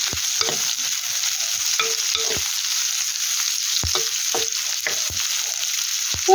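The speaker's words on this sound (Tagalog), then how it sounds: "Lutuin muna natin ang bawang at sibuyas at palabasin ang aroma mula dito." Garlic and onion sauté in rendered pork fat, giving a steady close sizzle with repeated scrapes and knocks of a utensil stirring the pan, and no talking.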